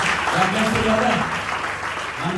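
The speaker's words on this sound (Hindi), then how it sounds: "ये 3 लोगों के लिए जोरदार तालियों के साथ परमेश्वर की महिमा" Loud sustained applause from a church congregation during a worship service, continuous clapping with faint voices underneath.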